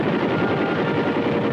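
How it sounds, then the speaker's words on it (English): Heavily armed Huey gunship helicopter flying, a steady, dense rotor-and-turbine roar that holds at even loudness throughout with no voices. "the light spotters called for their big brothers, the heavily armed Huey gunships."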